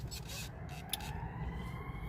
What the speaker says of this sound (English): Hear the siren?